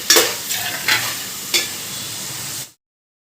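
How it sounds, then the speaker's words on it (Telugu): Onions fry in a pan while a spoon stirs them, giving a close, steady sizzle broken by a few scraping strokes before the sound cuts to silence. "సో ఇప్పుడు ఆనియన్స్ మంచిగా ఫ్రై అయిపోయినాయి."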